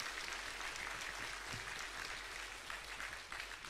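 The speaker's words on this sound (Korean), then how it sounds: "우리 다시 한번 크게 박수해 주십시오" A church congregation applauds at a Sunday service, a dense, continuous wash of clapping from many hands that holds steady throughout, heard from some distance in a large room.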